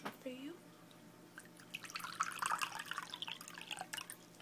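Warm water is poured into a teacup in a quiet close-up setting, giving soft trickling and dripping sounds, with quiet speech nearby.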